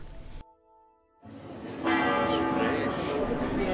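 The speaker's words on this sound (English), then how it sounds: "When the bells started to ring" Church bells ring out in Dubrovnik, Croatia, a sustained metallic clang with lingering overtones, heard amid ambient crowd and street noise in narrow streets.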